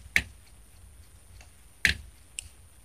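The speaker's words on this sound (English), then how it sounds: "Instead of scratching my head, I scratch the microphone." A microphone is scratched with three sharp scraping bursts, close and fairly quiet, with the first two strong and the last shorter and weaker over a hushed background.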